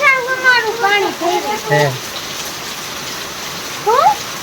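Rain falls in a village, a steady hiss of drops beneath loud, close conversation that fills the first half and returns briefly near the end.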